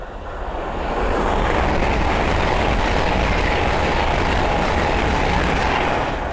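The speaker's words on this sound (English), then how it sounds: "the next train to pass by is a Hull Train 800 from London King's Cross to Edinburgh Waverley" A Hull Trains Class 800 on the East Coast Main Line at Sandy, running from London King's Cross toward Edinburgh Waverley, rushes past close by with a loud, sustained roar and wind noise that swells in the first second and holds steady, with no voices.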